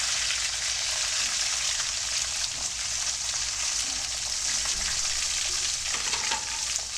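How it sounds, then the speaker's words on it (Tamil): Onions frying in hot oil in a pan for a South Indian mustard chicken dish, producing a dense, even crackling sizzle throughout with small pops and bursts, close and unbroken, with no talk. "இந்த சிலுசிலுப்பு அடங்கிட்டு இப்போது இந்த வெங்காயத்தை இதில் போட்டுக்கலாம்."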